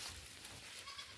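Goats on a farm bleat briefly in the open under hot midday pasture conditions, a short soft call against steady background noise.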